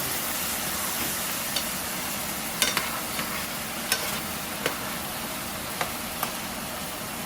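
Sweet rice for arroz caldo is stirred in a pot with a steady soft hiss, broken by occasional sharp scrapes and clicks of the utensil against the pan.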